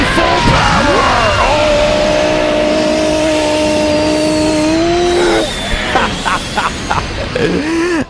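Super Saiyan 4 Goku fires a full-power blast in the Dragon Ball Xenoverse 2 video game, a loud, dense roaring energy beam with whining, sweeping tones, then crackling impacts and a yelling game voice near the end.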